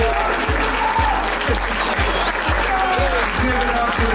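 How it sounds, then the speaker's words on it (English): Loud audience applause for the cast and crew of a film at a screening event, a dense clatter of clapping over a thumping beat that pulses roughly twice a second beneath it. "I want to give you guys an applause for the hard work you guys did"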